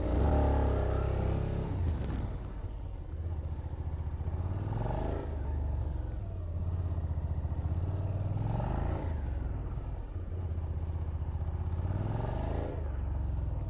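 Suzuki SV 650 2021 motorcycle looping through figure eights in gymkhana practice: the engine note rises and falls in repeated waves of revving as the bike accelerates out of each turn, steady and close, with no voices.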